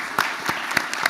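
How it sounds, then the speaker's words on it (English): Audience applause closing a panel at a CIO summit, a short burst of dense clapping from a crowd, fairly loud and close. "A round of applause for everyone here."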